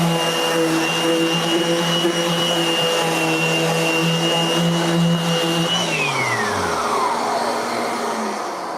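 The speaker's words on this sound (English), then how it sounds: "Festool makes a damn good vacuum system." A Festool vacuum system runs in a skateboard-building workshop with a loud, steady whine and hum, then is switched off and winds down with a falling pitch.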